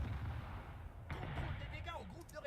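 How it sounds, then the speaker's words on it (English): A Long Lance torpedo slams into a ship in the War Thunder naval game, giving a deep booming explosion with a rumbling low end, with someone talking over and around it. "I ate a torpedo. That's a long lance."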